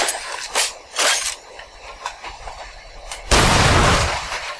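Sharp gunshot bursts from the video game Duke Nukem Forever crack in quick pairs over a noisy background, then a louder sustained blast of rumbling noise takes over near the end.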